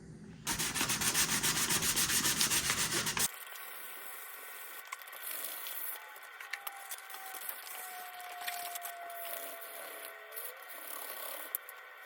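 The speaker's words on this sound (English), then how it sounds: "Okay, got it sanded." Sanding a damaged plastic car grille repaired with a hot wire welder and epoxy: about three seconds of loud, steady abrasive rubbing, then it stops, leaving quieter background noise.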